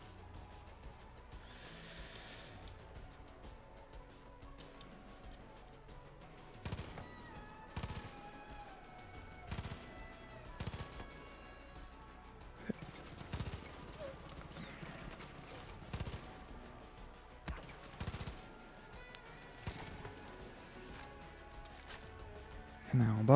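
Gunfire in the shooter game Far Cry 5 on PC: a scattered series of sharp shots and short bursts, some distant and some close, cracking intermittently over a low, busy game background.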